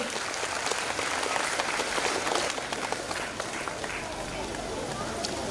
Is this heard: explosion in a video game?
no